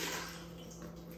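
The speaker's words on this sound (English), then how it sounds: "Now I'm going to take my measured amount of water and pour it into this pot." Measured water is poured into a pot while lard soap is made in a home kitchen, giving a soft continuous splashing pour that is faint and steady throughout.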